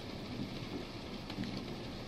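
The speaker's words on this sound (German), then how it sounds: "Und es regnet." Rain falling in the Resident Evil 7 video game makes a steady, soft hiss of droplets with a faint low rumble underneath, continuous and fairly quiet with no voices.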